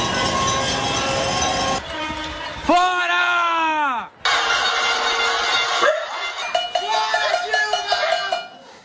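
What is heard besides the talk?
pot-banging protest in Sao Paulo with honking horns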